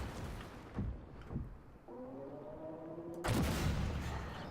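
Tank cannon fire in Armoured Warfare from a Chieftain tank, with a few separate booming shots and a final louder blast amid steady engine rumble, no voices over it.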